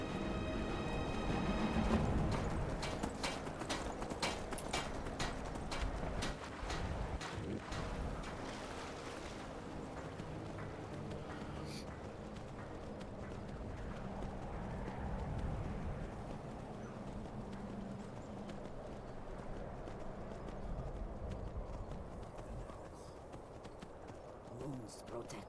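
Horse hooves clip-clop steadily along a road in the video game Skyrim, a continuous trotting rhythm heard close, with voices talking over it throughout.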